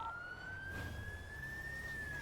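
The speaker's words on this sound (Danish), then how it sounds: "Bare sluk sirenen." A police car siren wails steadily in a GTA roleplay game during a bank robbery, a rising, sustained electronic tone over low engine rumble, fairly faint and with no talking.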